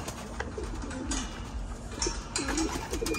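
Racing pigeons coo inside a loft, several soft throaty coos repeating over a steady low background hum, moderately close and fairly quiet.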